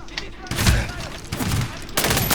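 Bursts of gunfire fill a Medal of Honor Warfighter battle, loud close volleys with heavy thuds at the start and again near the end, and a voice speaks briefly amid the shooting.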